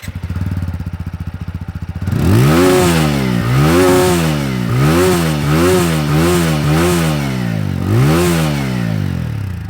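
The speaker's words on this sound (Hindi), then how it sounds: "आपको इसका एग्जॉस्ट नोट सुनाता हूँ" TVS Apache 200 4V motorcycle idling with a lumpy pulsing beat, then revved hard several times in quick succession, each blip climbing and falling back, loud and close with a deep exhaust note.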